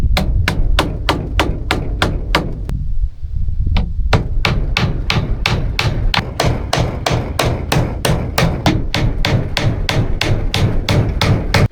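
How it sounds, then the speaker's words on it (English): Hammer driving nails into house siding, sharp ringing strikes in a fast steady rhythm, loud and close, with one short pause before the blows resume and continue to the end. "Did anyone see that hammer technique?"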